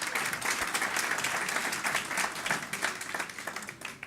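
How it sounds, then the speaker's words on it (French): Audience applause after a presentation at a municipal urbanism programme meeting, a steady mass of clapping held at even loudness for about four seconds, with no voices above it. "Je peux l'applaudir"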